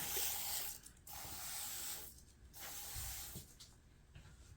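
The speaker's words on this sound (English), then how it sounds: "I'm gonna kind of hit it with some furniture cleaner." Furniture cleaner is sprayed onto a piece of furniture in three or four short hissing bursts with brief pauses between them, close and fairly quiet.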